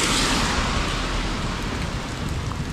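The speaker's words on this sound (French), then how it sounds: "Et à ma gauche, le tonnerre" Heavy rain pours steadily during an early-morning thunderstorm on a city road, with a loud, dense wash of downpour and low thunder rumbling underneath throughout.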